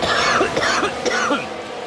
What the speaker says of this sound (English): This cough is a nightmare